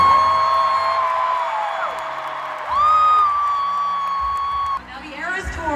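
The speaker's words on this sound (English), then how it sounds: "if we could all please applaud the ERAS Tour crew" A packed stadium crowd at an Eras Tour concert in Los Angeles applauds, cheers and whoops for the touring crew, a loud, sustained roar threaded with shrill whistles and screams that swells midway and dips briefly near the end.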